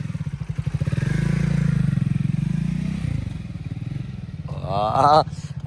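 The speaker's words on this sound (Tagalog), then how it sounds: "Big bike siya pero hindi siya naka-open pipe, naka-stock pipe siya." Stock-exhaust BMW big bike engine rumbling steadily at idle and low revs close by, with a brief rise in revs near the end; people talk over it.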